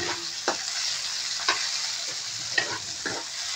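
Squid adobo with tomatoes and onions is stirred in a frying pan: a steady low sizzle with a handful of sharp scraping strokes spaced about a second apart, close and fairly quiet.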